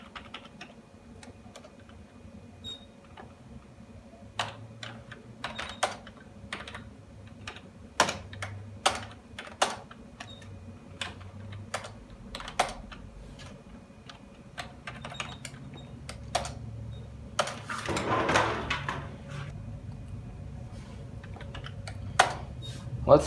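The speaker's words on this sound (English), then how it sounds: "Let's see if the mouse and keyboard still work." Keys clatter on a USB computer keyboard at a desk, scattered sharp clicks and short bursts of typing with pauses between, close and fairly quiet, plus a brief rustle midway.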